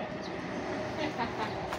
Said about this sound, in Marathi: हो आमची ट्रेन निघाली.